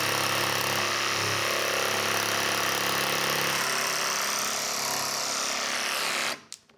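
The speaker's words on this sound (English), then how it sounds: "Now we can get our jigsaw, cut out this arch" Jigsaw cutting an arch into wooden door trim, a loud, continuous buzzing motor whine held close for several seconds before abruptly stopping.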